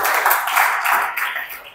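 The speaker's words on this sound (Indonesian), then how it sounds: "Kasih tepuk tangan untuk Tuhan" A church congregation claps for God during a sermon, a fairly loud, blurred wash of many hands clapping that thins slightly toward the end.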